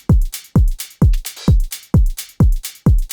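A simple stutter house drum pattern: punchy, loud kicks land on a steady beat with crisp hi-hats ticking between them, repeating evenly alone.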